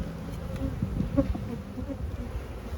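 A dense, steady hum of many honey bees buzzing close by at an open hive, with individual bees droning past now and then.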